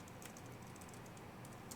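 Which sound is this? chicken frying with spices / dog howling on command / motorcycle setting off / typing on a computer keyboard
typing on a computer keyboard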